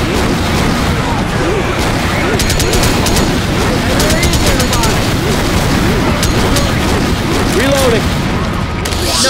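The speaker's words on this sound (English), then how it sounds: "I'm gonna keep shooting." Dense, rapid gunfire and booming blasts in the Left 4 Dead 2 video game, loud and continuous throughout, with a voice talking over the shooting.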